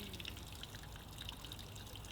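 Water trickles and drips faintly from a leaking 3D printed PC liquid cooling loop, a steady low wash with scattered small drip sounds and no talking.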